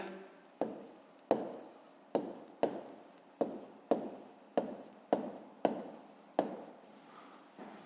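Pen or pencil writing an answer in a school maths notebook, a quiet series of about a dozen short scratchy strokes in an even rhythm, alone without talk.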